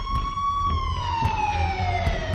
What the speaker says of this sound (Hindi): हमारे घर के बाहर पुलिस और एम्बुलेंस की सायरन बजने लगे